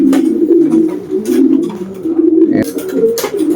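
A pigeon, a white-plumaged racing bird, coos in low repeated rolling calls close by, with a few short handling noises and a sharp knock toward the end.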